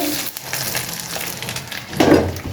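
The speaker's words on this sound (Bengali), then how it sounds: "এখন আমি এই যে পেঁয়াজ আর রসুনটা যে ডালে দিয়ে দিব ডালটা বাগা দিয়ে দিচ্ছি" Onion and garlic tempering poured into a pot of dal gives a steady frying sizzle, swelling into a louder burst of crackle near the end, with no voices.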